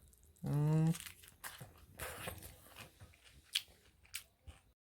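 Biting and crunchy chewing of pork with gravy, close to the mic, comes in uneven bursts with wet mouth sounds, and a voice talks over part of it.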